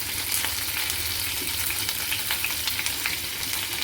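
Curry leaves and asafoetida fry in hot oil in a pan with a constant, dense sizzle and crackle that carries on alone throughout.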